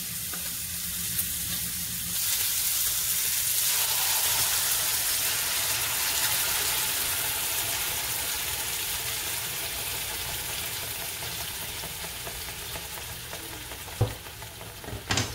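Food frying in a pan with a steady, loud sizzle filling the whole stretch, easing slightly over time, with a couple of brief clatters near the end and no talking.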